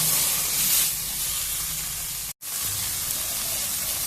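Spinach fries in a little oil with a loud, steady sizzle and hiss that carries on without a break, apart from one brief cut in the middle.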